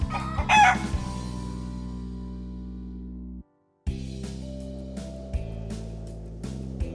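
A hen or rooster clucks and crows over steady background music, loud and close, with a brief silent gap in the middle.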